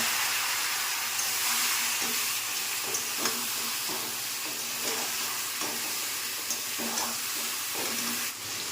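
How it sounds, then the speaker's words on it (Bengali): Ridge gourd and mixed vegetables with slit green chillies fry in a hot pan, giving a steady, loud hiss broken by scraping clicks of stirring throughout, with no talking. "দেখো সবজি কষানো হয়ে গেছে, ঝিঙেটাও দিয়ে দিয়েছিলাম।"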